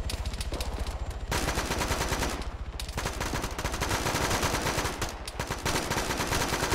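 Sustained automatic gunfire from a military shooter game, rapid close bursts rattling almost without pause, with brief dips between volleys.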